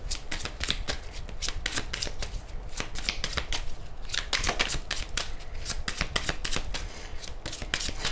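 Tarot cards being shuffled for a reading, close up: rapid, continuous riffling flutters with crisp, repeated card slaps and no speech.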